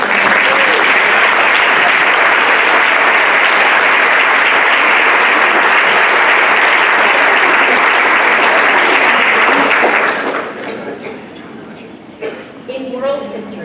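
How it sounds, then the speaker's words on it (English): Sustained, loud applause from an audience honouring award recipients at a school board meeting, a dense roar lasting about ten seconds before dying away into scattered claps and faint room noise. "Please give them a round of applause"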